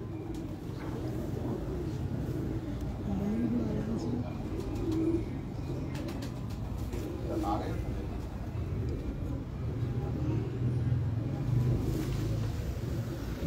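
Pigeons coo softly at close range in the loft of a pigeon keeper in Lahore, low repeated calls heard under steady background noise and someone talking.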